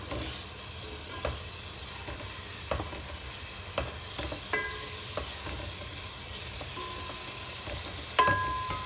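Potato and cauliflower fry in a pan toward golden brown, a steady sizzle under scattered spatula clinks and scrapes, with a louder knock near the end.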